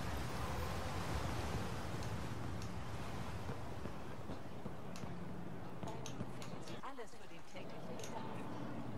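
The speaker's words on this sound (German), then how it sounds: "Wow, was für ein mega Wasserfall." A huge waterfall rushes in the video game Mass Effect: Andromeda, a loud, steady roar of water in a broad wash of noise that holds for the whole stretch.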